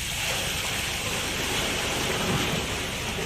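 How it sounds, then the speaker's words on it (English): A bucket of water poured down a spoon drain that feeds a grease trap line, giving a steady, loud broadband rush of splashing, flowing water throughout, with no talk. "Now just got to pour this bucket of water down this spoon drain"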